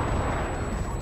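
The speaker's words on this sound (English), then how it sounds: "Throwing C4." A C4 explosion in an online shooter game comes across as a dense, sustained roaring blast of rumbling noise that fills the whole short moment without a break.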